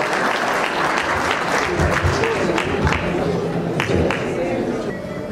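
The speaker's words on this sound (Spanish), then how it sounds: "Aplausos, por favor." Audience at a Spanish-language engineering awards ceremony applauds steadily for a teacher named best instructor, dense clapping filling the room throughout with a few voices mixed in.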